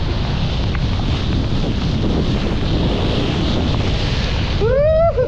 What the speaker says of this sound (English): The wind's so strong that the tips on this thing are collapsing a little.